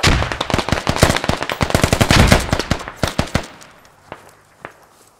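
Rapid automatic gunfire rattles in the Squad video game, loud, dense bursts for about three seconds, then thinning to a few scattered, more distant shots.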